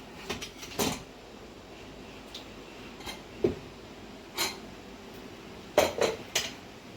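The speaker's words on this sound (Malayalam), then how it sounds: "കുക്കറിനെ നമുക്ക് തുറന്ന് നോക്കാം" A pressure cooker lid being opened after cooking khichdi, with scattered metallic clinks and clanks of the lid and pot at irregular intervals, fairly close and moderately loud in a quiet kitchen.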